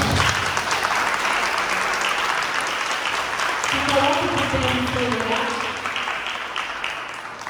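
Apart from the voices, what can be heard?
church congregation applauding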